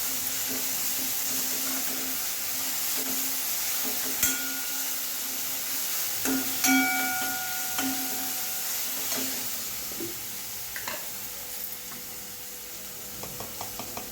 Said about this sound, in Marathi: भाजलेल्या कांद्यामध्ये ना आता एक चमचा वाटण पण टाकायचं आता हे बघा आणि हे व्यवस्थित मिक्स करून घ्यायचं